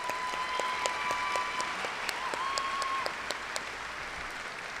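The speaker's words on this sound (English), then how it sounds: "Please give them a round of applause." An audience applauds school trustees at a meeting, the clapping steady and even throughout with occasional sharper claps, while faint tonal whistling or feedback sits underneath.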